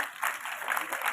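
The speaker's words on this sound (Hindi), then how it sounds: "उनके लिए भी तालियां।" A school audience claps steadily through a brief burst of applause at an Independence Day speech, a dense crowd sound with no talk over it.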